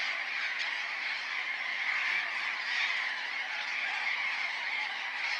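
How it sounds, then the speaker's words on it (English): A dense, continuous chorus of harsh squawking calls from a large flock of burrowing parrots in an arid Atacama neighborhood, steady and loud, with no pauses. "colorful, noisy flocks of burrowing parrots"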